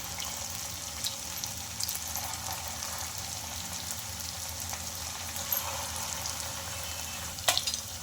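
Food frying in hot oil in a kadai, a steady broadband hiss and crackle running evenly throughout, with a few brief clinks and pops near the end.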